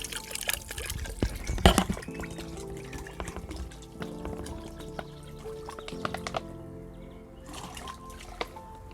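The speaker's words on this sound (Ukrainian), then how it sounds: "в казан заливаємо воду" Plain well water pours into a cauldron set over an open fire for cooking borscht, a close, steady splashing and trickling stream with scattered drips and clanks, and no talk.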